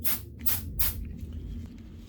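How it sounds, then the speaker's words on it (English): Brake parts cleaner hisses from an aerosol can onto a rag in three quick close bursts, followed by a low steady hum. "spray a little bit on a rag"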